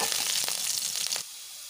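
Carrot pieces and curry leaves fry in a pan for egg fried rice, giving a steady loud sizzle and hiss with a few crackling bursts that cuts off abruptly near the end.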